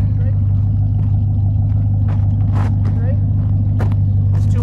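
A two-wheel-drive Jeep crawls a rough off-road trail, its engine a constant loud low rumble with occasional bumps and clatter from the rocky ground underneath.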